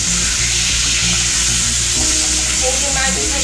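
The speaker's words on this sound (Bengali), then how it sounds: "এবারে এই মাছটাকে উল্টে পাল্টে দেবো।" Rui fish frying in a pan as the pieces are turned over, a loud steady sizzle with low humming and clinking tones beneath.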